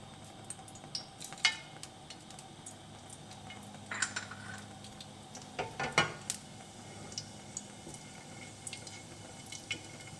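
Whole spices dropped into melted fat for homemade palak paneer sizzle steadily in a pan, with scattered clicks and scrapes of stirring and a few sharper clinks spread throughout, no voices.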